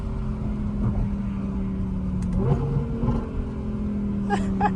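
An Audi R8 Performance V10, a 2022 model, idles with a deep, steady rumble close by, with a few faint engine swells and light background clatter and no talk.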